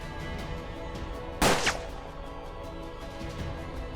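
One loud, sharp gunshot with a swishing tail goes off in the Hard West video game, standing out against a steady low background of game ambience.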